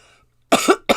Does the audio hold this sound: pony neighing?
no